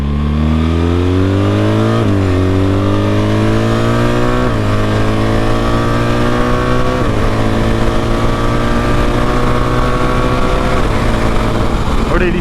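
A BMW R 1300 GS Adventure motorcycle with automatic gear shifting accelerates hard, its engine note climbing in pitch and then dropping at each of several clean upshifts, loud and close for the whole run.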